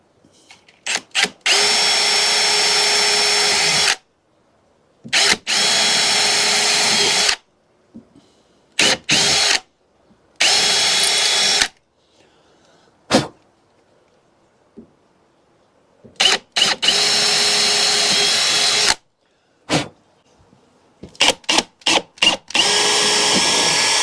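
A handheld power drill with a 5mm bit bores into a bolt hole in a backyard boat workshop, loud whining bursts starting and stopping repeatedly with short gaps of silence between, close up and alone.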